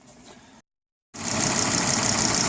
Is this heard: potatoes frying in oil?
no